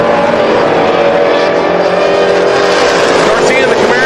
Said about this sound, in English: Up against the third-gen Camaro, Felix Garcia.